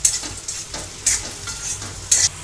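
Brinjal frying with chili powder in a pan, a soft close sizzle broken by stirring bursts, three brighter scrapes about a second apart.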